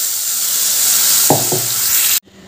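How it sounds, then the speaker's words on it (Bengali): Cabbage paste hits hot oil in a wok with a loud, bright sizzle, a couple of scraping stirs in the middle, then the sound cuts off abruptly. "তেলটা গরম হয়ে গেছে, এবার ওই তেলের মধ্যে দিয়ে দিচ্ছি পেস্ট করে রাখা বাঁধাকপি।"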